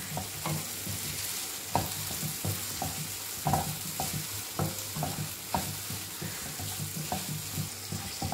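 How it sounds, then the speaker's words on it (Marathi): Tomatoes sauté with softened onion in oil for a fresh cashew curry, giving a soft, close sizzle broken by regular scraping taps of a spatula stirring the pan. "आता टोमॅटो पण मऊ शिजेपर्यंत आपण परतून घेऊया"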